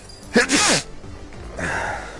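A single sharp sneeze up close, followed by a breathy exhale.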